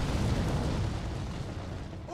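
A grenade blast in the WWII strategy game Company of Heroes 2, heard as a dense, sustained low rumble with a broadband burst that stays loud across the clip and fades only slightly at the end.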